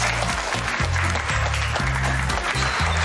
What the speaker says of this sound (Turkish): Alkış olmazsa olmuyor. Alkış olur.